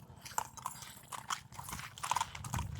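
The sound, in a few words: Marwari horse hooves clip-clopping while walking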